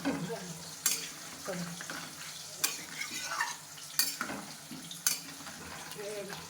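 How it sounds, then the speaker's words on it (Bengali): Mutton seasoned with coriander powder is stirred and fried in a pan, a steady close sizzle broken by four sharp scrapes of the spoon against the pan at irregular intervals. "আমি ভালো করে নাড়াচ্ছি ওকে ভালো করে এটাকে একটু কষে নেব"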